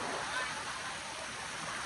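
Water rushes in a continuous, even roar, like a waterfall pouring nearby, with no other sounds standing out.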